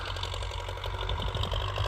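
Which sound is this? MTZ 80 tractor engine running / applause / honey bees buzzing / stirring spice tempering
MTZ 80 tractor engine running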